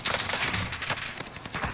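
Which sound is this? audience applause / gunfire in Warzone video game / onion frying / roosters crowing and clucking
gunfire in Warzone video game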